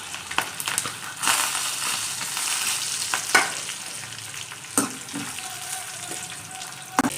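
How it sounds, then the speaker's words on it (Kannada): Peanuts frying in hot oil with chili and curry leaves for egg rice, a crackling sizzle with sharp pops and stirring scrapes, close and steady throughout. "ಅದಾದಮೇಲೆ ಕಡಲೆಬೀಜ ಹಾಕ್ಕೊಂಡು ಚೆನ್ನಾಗಿ ಫ್ರೈ ಮಾಡ್ಕೋಬೇಕು."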